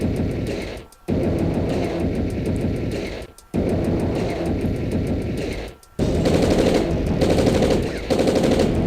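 Units firing in a force attack in the Red Alert video game: dense, loud, continuous machine-gun fire in three long bursts separated by brief pauses.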